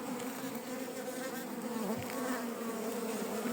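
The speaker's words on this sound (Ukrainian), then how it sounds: "Якщо придивитися, тут більше трута летить, аніж самих бджіл." Honey bees and numerous drones flying around a hive of dark-backed Carniolan-type bees make a dense, steady buzzing hum close by, unbroken for the whole stretch with no talking.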